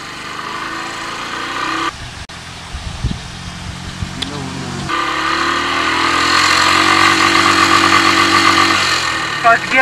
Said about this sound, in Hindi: तो चलो फ्रेंड्स, आज दिखाने वाला हूँ कि क्लासिक का 350 का फर्स्ट गियर और सेकंड गियर।